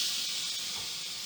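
A hot Peltier module sizzles with a steady, bright hiss that holds evenly for just over a second before easing slightly, close and alone with no talking.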